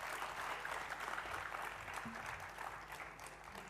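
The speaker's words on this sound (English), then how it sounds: "Let's give them all a thunderous applause." Audience applause at the inaugural session of a youth consultation event at NIMHANS in Bengaluru, a steady wash of clapping from a large crowd lasting throughout, moderately loud with no breaks.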